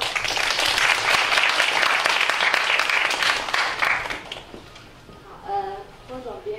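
Warm, dense audience applause at a Taipei book talk comparing Taipei and Seoul, welcoming the guest teacher; steady crowd clapping for about four seconds, then fading as a speaker begins to talk.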